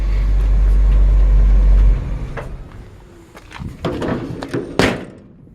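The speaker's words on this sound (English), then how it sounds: "let me turn off the engine so you can hear me a little better in the video" A 1955 Chevy 3100 shortbed truck engine runs loud and steady, then shuts off after about two seconds, leaving quieter ambient noise with a few knocks and thumps close by.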